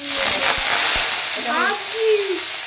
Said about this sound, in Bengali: রসুনটা এবার লাল করে ভেজে নাও।